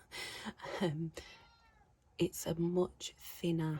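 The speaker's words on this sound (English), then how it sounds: "that's my cat, sorry, at my window, and I can't let her in" A house cat meows at a window, several plaintive meows close to the microphone, interleaved with someone talking.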